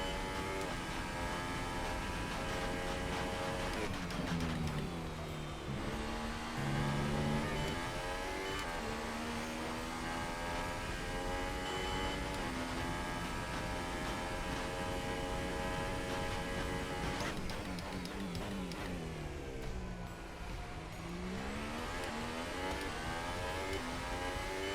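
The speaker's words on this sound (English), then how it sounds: "I don't really want to push the engine too much, but this fuel is really holding me down" F1 race car engine in the F1 2018 game at the Austrian Grand Prix, revving continuously with rising and falling pitch sweeps as gears shift, loud and steady throughout with no talk over it.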